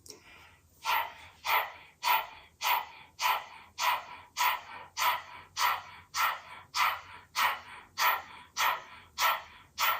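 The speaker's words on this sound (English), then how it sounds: "So let's start panting like a dog with the tongue sticking out." Yoga breath of fire done as open-mouthed panting with the tongue out: a steady, rhythmic series of quick breathy huffs, close and fairly loud, like a dog panting, with no talking over it.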